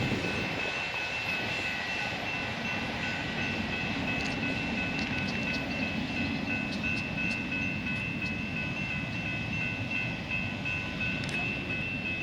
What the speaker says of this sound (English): Overhead, you can see a Delta airliner flying into DTW